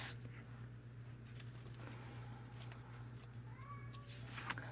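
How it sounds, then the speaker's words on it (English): A cat meows twice in the background, faint and brief, over a steady low hum and quiet room noise. "There's that cat again."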